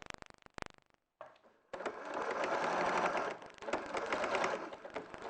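A sewing machine runs a top-stitched seam about a quarter inch from the edge, a steady rapid whirring hum that starts after a few short bursts and a brief pause, then carries on continuously and close.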